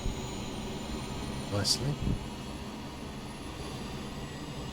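A steady Airbus A320 auxiliary power unit in Microsoft Flight Simulator 2020 drones and whines as it runs up from cold and dark, with a voice speaking briefly over the constant roar.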